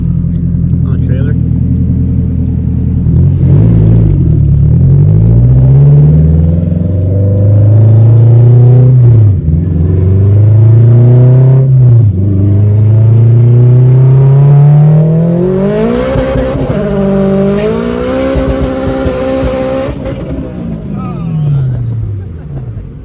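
A turbocharged car pulls hard through several gears, the engine note rising in pitch, dropping at each shift and climbing again, loud and close from inside the cabin while people talk over it.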